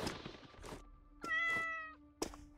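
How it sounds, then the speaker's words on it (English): A cat meows in the video game Awaken Astral Blade, set in a misty rainforest level, with two or three separate meows spread across a couple of seconds over quiet game ambience. "Oh yes, a cat."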